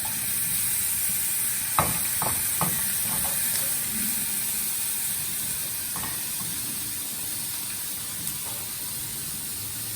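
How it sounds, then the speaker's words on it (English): Grated carrots (gaajar) are stirred in a pan on a gas stove, a steady soft hiss with a few light scraping taps of the spoon against the pan. "Stir it a little bit. Don't let it cook. Just stirring."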